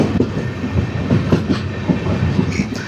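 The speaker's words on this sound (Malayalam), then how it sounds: "അങ്ങനെ തിരുവല്ല സ്റ്റേഷനിൽ നിന്നും ട്രെയിൻ പുറപ്പെട്ടിരിക്കുവാണ്" Train pulling out of Thiruvalla station, running a little late, with a steady rhythmic clickety-clack of wheels over rail joints and rumbling carriages, heard from on board with no voices.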